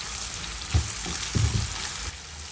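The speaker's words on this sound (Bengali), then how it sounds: "ডিম বোনার জন্য দিয়ে দিলাম রসুন, দিয়ে দিলাম অল্পের মতো পেঁয়াজ, দিয়ে দিলাম লবণ" Eggs fry in a pan with garlic, onion and salt, giving a steady close sizzle with a few louder spits and crackles as ingredients hit the hot oil.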